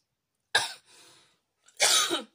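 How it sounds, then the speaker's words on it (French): A person coughs twice, close and loud, with a short breathy rasp after the first cough and a longer, rougher second cough, separated by silence. "J'arrête pas de tousser."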